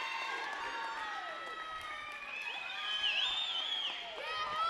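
A crowd cheers and whoops steadily at a women's volleyball match between Madonna and the University of Northwestern Ohio, with a swell of excitement midway, while a commentator talks over the noise.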